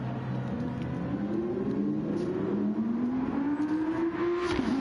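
An Audi race car engine in a racing game replay on the Barcelona circuit, revving steadily upward through the gears in a smooth rising whine, close and continuous, then dropping off sharply at the end.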